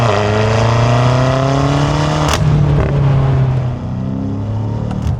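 Loud, steady engine roar from a BMW M5 F90 Competition LCI driven on the road, with rising tone under load, a brief shift around the middle, then the note drops and settles to a continuous drone.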